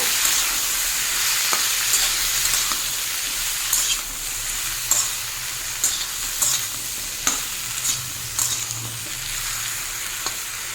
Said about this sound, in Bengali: এটাও মিনিট 2-3 একটু নাড়াবো।